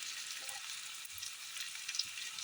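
Vegetables sautéing in a pan with chili powder, salt and cumin, a steady close hiss of frying with faint crackles throughout, no voices.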